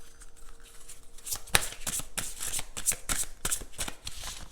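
Oracle cards are shuffled by hand before one is drawn, a quiet close riffle of soft rapid flicks and slaps in an uneven rhythm, with no talking over it.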